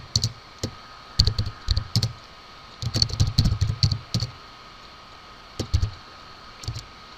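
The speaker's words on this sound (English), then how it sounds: "I'm going to quickly type in a credit sequence" Keys clatter on a computer keyboard while a credit sequence is entered, bursts of quick close taps separated by short pauses, with no talking.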